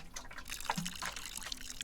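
Watering a plant in the Botany Manor video game gives soft, faint liquid drips and a brief trickle of poured water, quiet and close.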